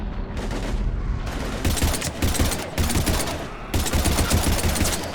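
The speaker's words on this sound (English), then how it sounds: "We're taking heavy fire." Heavy sustained gunfire from a Mass Effect battle against husks, dense rapid bursts of automatic shots filling the whole stretch, loud and close with no pauses.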